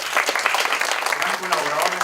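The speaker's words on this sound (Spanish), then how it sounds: "Un aplauso para Javier, por favor." A conference audience at an entrepreneurship event claps for Javier, a dense burst of applause filling the room, with a voice speaking over the clapping near the end.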